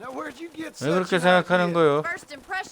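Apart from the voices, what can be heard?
No everyday noise stands out behind the speech.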